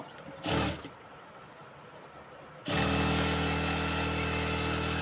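A sewing machine stitching a salwar seam starts up after a brief quiet moment, then runs as a loud, steady, continuous motor hum with no voice over it.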